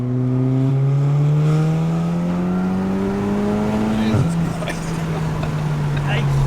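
Turbocharged 500 HP Audi S3 cruising in third gear, its engine drone rising steadily in pitch, then a quick dip around a shift before the hum settles; loud and close inside the car, with voices talking over it.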